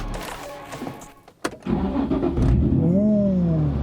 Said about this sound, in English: let's hear her start again